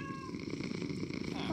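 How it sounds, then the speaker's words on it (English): A pet cat purring in a steady low rumbling drone, close and continuous, with faint game sounds and a voice lightly in the background. "Oh, my kitty's purring."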